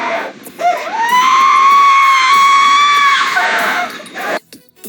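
A monster shrieks in pain and frenzy after being doused with ignited alcohol and engulfed in fire, one long, loud, sustained wavering scream lasting several seconds before cutting off.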